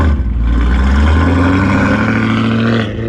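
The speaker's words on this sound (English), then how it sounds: "the burble just goes. And then you, endless burble" A straight-piped BMW E92 M3 V8 exhaust burbling loud and near, a deep, continuous rumble with a slight rise in pitch partway through, no talking over it.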